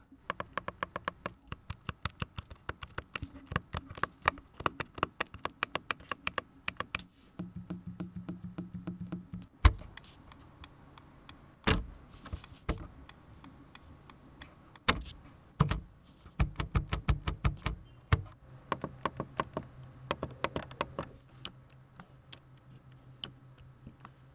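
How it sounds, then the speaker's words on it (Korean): Steering wheel remote buttons on a Mercedes-Benz E300 AMG Line clicking repeatedly inside the cabin, crisp close ticks in quick bursts and single presses, with brief low whirring pauses between runs. "신형 모델에서 가장 마음에 드는 부분은 스티어링 휠 리모컨입니다. 작동하는 작동음."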